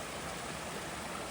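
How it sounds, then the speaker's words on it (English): Funston Creek flowing in the Sequoia and Kings Canyon backcountry, a steady broadband rush of running water heard close and continuous, with no voices. "Funston Creek is running again."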